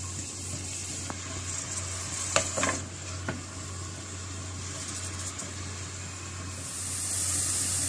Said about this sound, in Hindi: इस प्याज को इस ऑयल के अंदर डाल देंगे और इसको हल्का से इसके अंदर फ्राई करेंगे।